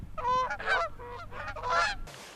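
Geese honk close overhead during a goose hunt, several loud rapid nasal calls in two bursts with a low rumble beneath them.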